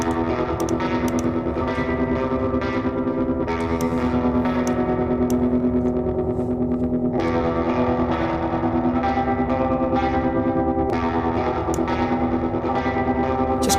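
Processed music run through a sharp, narrow-band EQ boost, giving a ringing, metallic tone; dense and steady at constant loudness, with strong sustained resonant bands and no voice.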